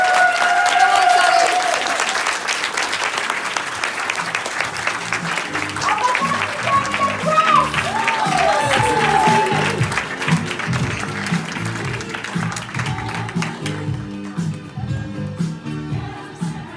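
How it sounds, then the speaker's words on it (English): Audience applause at a public speaking event for a women's support group, a sustained wash of clapping lasting the whole stretch, fairly loud and steady before thinning slightly toward the end, with some faint crowd murmur underneath. "Can we please have a big round of applause for Sally Wilkinson?"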